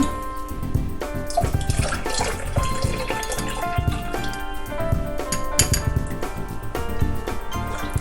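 Arrowroot mixture pours steadily through a metal strainer into milk, with light clinks of the strainer against the vessel, over a continuous tonal background.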